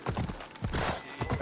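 Quick, rhythmic clip-clop of galloping horse hooves in Assassin's Creed Odyssey, fairly close and steady over a short burst, with no voices.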